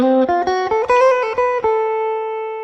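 Solo blues guitar plays a D Mixolydian lick mixed with chord strums: several quick picked notes and slides, then a final note left to ring out and fade. Close-miked, with no talking.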